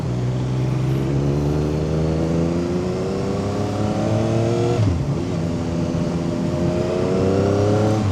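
A CF Moto 675 SR-R motorcycle fitted with a full titanium exhaust revs hard twice. Each time the engine climbs steeply in pitch, then drops back briefly to a loud, close idle, with no talking.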